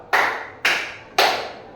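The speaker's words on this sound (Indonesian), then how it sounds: "Tepuk 1. Tepuk 2, pan. Tepuk 3" Three single hand claps in a slow, evenly spaced counted rhythm, each a sharp close crack decaying quickly in a classroom setting, with no talk between them.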